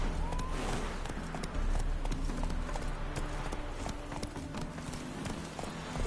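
Roach the horse galloping in The Witcher, a quick, steady clip-clop of hooves at close range carrying on throughout, with faint background ambience.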